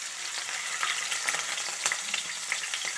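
Crushed garlic and ginger hit hot oil for a squid roast, giving a dense, bright, continuous sizzle with small crackles and pops throughout.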